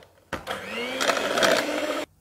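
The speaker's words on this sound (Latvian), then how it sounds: "Nākamo pa vienai pievienojam olas. Un tieši tāpat arī turpinam putot." Electric hand mixer whirring steadily for about two seconds as it whips eggs into savory ham and cheese muffin batter, starting and stopping abruptly, close and fairly loud.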